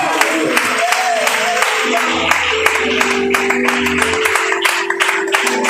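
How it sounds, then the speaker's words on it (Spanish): Church congregation applauding for the Lord during a Spanish-language sermon, steady dense clapping with scattered sharper claps throughout, mixed with voices. "Es aplauso para el Señor."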